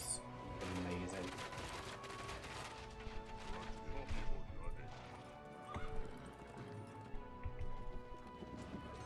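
Horse archers in Age of Empires II: Return of Rome, a busy battle mix of clopping hooves and repeated whinnies with scattered crashes and impacts, continuous and fairly loud throughout.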